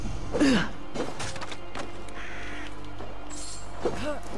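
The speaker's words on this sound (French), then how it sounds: "Avec notre petit Sinine, un petit corbeau, c'est vrai que ça faisait bizarre au début." Raven cawing in the Assassin's Creed Valhalla video game, a few harsh caws near the start and again near the end over soft background game music and ambience.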